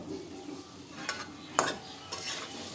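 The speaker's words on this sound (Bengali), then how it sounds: "সব কিছু দিয়ে ভালো করে নেড়ে চেড়ে মিশিয়ে দিচ্ছি" Stirring chalta (elephant apple) pickle with turmeric and salt in a pan, a few soft scraping strokes and brief clinks against a quiet simmering background.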